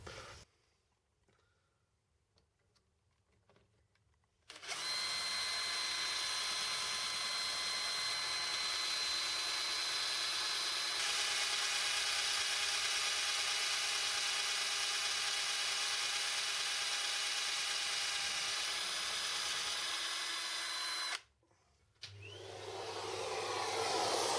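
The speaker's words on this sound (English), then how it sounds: "let's see if the drill will sit a bit better on this as I cut my way through." A power drill whines steadily for about sixteen seconds at a high, constant pitch, grinding through a metal ferrule on a Marshall JCM 2000 TSL122 amplifier, starting and stopping abruptly.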